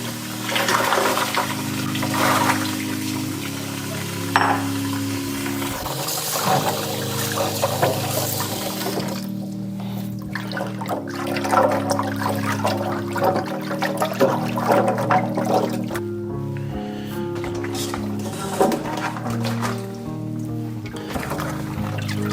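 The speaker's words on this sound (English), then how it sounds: "we got to wash these peanuts and clean them and sort them and take out the bad ones" Water runs steadily into a kitchen sink as peanuts are washed, a loud continuous rushing pour with shifting splashes and trickles as the nuts are moved around, close and unbroken throughout.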